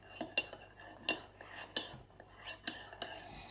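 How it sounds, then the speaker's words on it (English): A spoon stirs hot chocolate made with hot water in a cup, producing quiet, close clinks against the cup at a fairly regular pace of about one every half second. "I'm going to stir it nicely so I don't make a mess"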